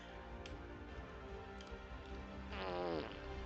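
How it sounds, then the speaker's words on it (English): A fart sound effect fired by a stream chat command plays once near the end, a short rising, buzzy rasp, fairly quiet against faint background noise with no speech. "I basically only have the fart command, but I don't really think it's working."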